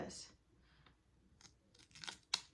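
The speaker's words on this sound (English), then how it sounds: "So I want you to take this piece of paper, and as we're ripping it" A piece of paper ripped by hand in short, sharp tearing bursts, close but fairly quiet, with brief pauses and a louder final rip.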